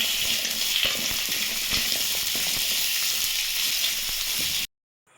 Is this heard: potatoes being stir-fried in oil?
yes